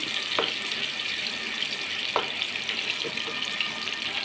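Mango pieces fry in oil with a steady, bright sizzle and a few brief pops, heard up close with no talking.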